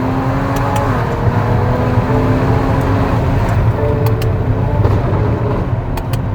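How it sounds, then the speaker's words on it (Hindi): Tuned BMW X5 with a Stage 2 pops exhaust, a steady engine drone close by with a few sharp cracks and pops breaking through near the end. "ultimate power, ultimate pops and bangs है भाई इसके"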